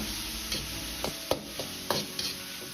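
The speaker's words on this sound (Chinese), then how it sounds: "把牛肉炒至稍微发干出香味，接着放入一半的西红柿翻炒" Beef brisket and tomato being stir-fried in a pan, with a steady low sizzle and a handful of distinct spatula scrapes and taps spaced out through the clip, close by and with no voices.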